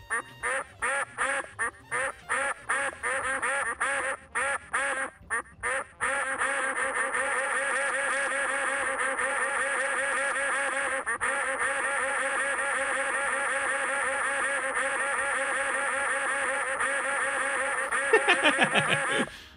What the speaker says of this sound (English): we've got ducks that play as sounds